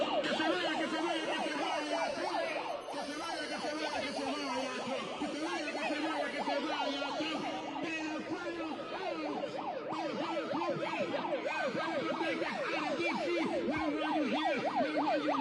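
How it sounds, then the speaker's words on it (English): Emergency vehicle siren wailing in a rapid, warbling yelp that continues loud and steady throughout, with no talking. "She's trying to switch to the siren."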